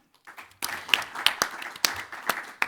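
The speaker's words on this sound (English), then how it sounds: "But please give a warm applause to Ori Maron" Sparse applause at a hyperloop conference panel: after a brief quiet start, a small group claps with distinct, separate hand claps at an uneven rhythm.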